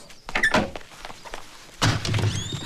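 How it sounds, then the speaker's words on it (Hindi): A window slides shut with a rough rattle, then a door thunks open a moment later, both close and fairly loud, with some muffled movement in a comedy film scene. "खिड़की बंद कर, दरवाजा खोल।"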